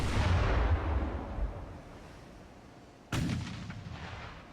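Warship guns firing in the naval battle game Ultimate Admiral: Dreadnoughts: a deep booming blast that rumbles and slowly decays, then a second sharp report cracks out near the end and fades.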